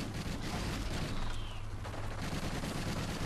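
Sustained automatic gunfire in a Call of Duty video game, a dense continuous volley of shots blending into a loud, steady roar that runs the full few seconds with no gaps.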